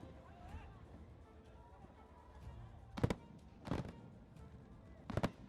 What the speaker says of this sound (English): Well, the fireworks have started.